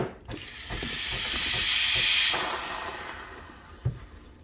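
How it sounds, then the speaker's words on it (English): Steam wand on a Breville Barista Pro espresso machine purging, a loud continuous hiss rising and fading over a few seconds, with faint clicks and a knock near the end. "This is very important you don't want any dried milk to be stuck in the steam wand so purge again"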